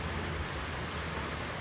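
Air hisses steadily from the o-ring joint of a valve housing, a continuous broadband rush close up with no break and no voices.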